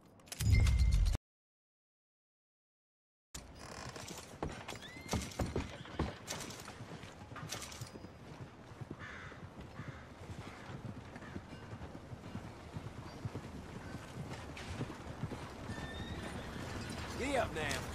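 A horse gallops with steady clip-clop hoofbeats and whinnies in the Red Dead Redemption 2 video game, with game dialogue spoken over it after a short silent gap at the start.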